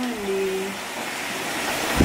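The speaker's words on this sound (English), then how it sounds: "I promise it's raining." Steady rain falls outside a home during Hurricane Irma, a dense, even hiss that fills the whole stretch, with a brief faint tone early on and a louder rustle at the very end.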